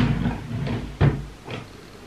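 A drawer of a large craft cupboard is pulled open, a few soft wooden slides and knocks with one sharper bump near the middle, close and clear with no talk.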